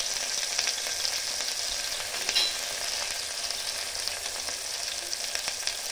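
Onion frying in a pan for pulao, a steady bright sizzle with faint scraping and crackles running throughout, fairly close.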